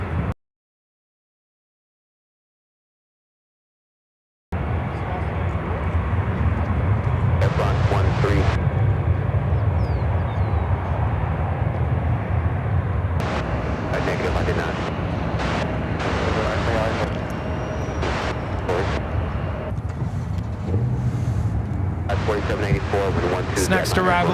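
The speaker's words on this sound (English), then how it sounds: "It's 777-300ER to be flying over us." A Boeing 777-300ER airliner passes overhead at Chicago O'Hare, a loud, steady broadband roar that fills the clip after a brief silent gap, with wind buffeting the microphone and intermittent speech over it.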